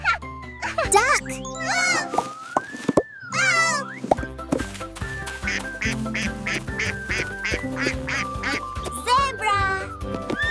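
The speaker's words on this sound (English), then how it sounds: "Duck." A duck quacks several times among animal sounds for a children's lesson, set against bright jingling music that runs throughout, with a voice naming animals.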